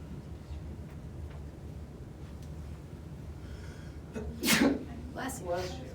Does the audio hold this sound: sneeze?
yes